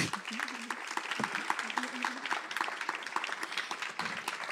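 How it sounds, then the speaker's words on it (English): Steady audience applause, a dense wash of many hands clapping at moderate volume, with a faint murmur of voices underneath throughout. "Please, a big applause for Parvana."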